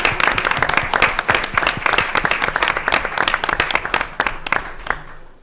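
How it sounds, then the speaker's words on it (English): School committee meeting audience applauding students, loud, dense clapping from many people close by, sustained for several seconds before fading out at the end. "Can we applaud those kids?"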